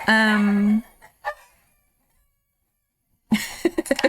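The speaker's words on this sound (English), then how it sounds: "I think the hen laid an egg and she's very proud of it." A hen clucks loudly and proudly after laying an egg, with a drawn-out squawk followed by a rapid string of sharp clucks outdoors near a forest, separated by a stretch of quiet.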